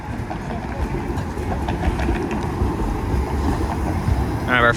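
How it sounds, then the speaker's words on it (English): Toronto 501 streetcar rolling along Church Street downtown, a steady low rumble of wheels on rails with faint clicks and traffic noise, and a brief squeal at the end. "Our 501 streetcar."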